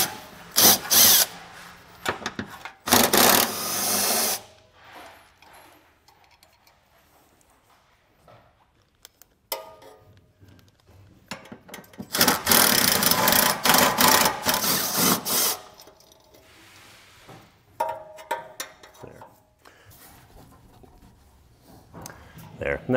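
A power tool zips off 12 mm frame rail bolts on a 2023 Toyota RAV4 while a trailer hitch is being fitted, in several loud whirring bursts separated by quieter gaps, close by.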